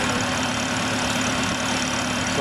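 Small Crawford stationary engine running steadily at an early-days engine and tractor show, a continuous close rumbling drone with an even rhythmic chug and no talking.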